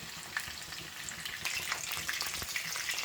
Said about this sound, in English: my salmons is fried on both sides and it's looking really good